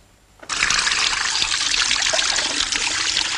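Hot water runs steadily from a tap, starting abruptly and pouring with a constant hissing trickle, close and fairly loud, with no voices.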